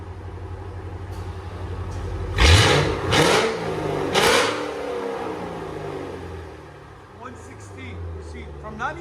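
A 2005-2009 Ford Mustang GT 4.6L V8 with aftermarket exhaust idles with a low steady rumble, broken by a few sharp revving blips, near and fairly loud; a person talks over it.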